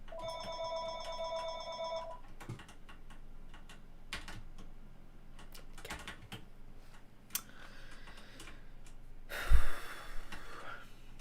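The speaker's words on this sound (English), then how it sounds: "Of course the phone would ring while I'm streaming." A telephone rings indoors with a clear electronic tone for about two seconds at the start, then stops, followed by keyboard typing and clicks during a livestream.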